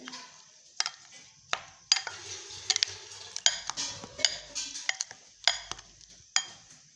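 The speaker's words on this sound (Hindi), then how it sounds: "अब हम इसको अच्छी तरह से मिक्स कर लेंगे।" A spoon mixes white and black pepper powder with brisk, rhythmic clinks and scrapes against a container, close and clear with short pauses between strokes.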